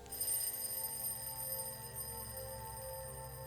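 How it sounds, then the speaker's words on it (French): An alarm clock ringing in the middle of the night, a steady bright ring that holds for several seconds, fairly loud at first and then settling slightly, with no voices over it. "Le réveil vient de sonner."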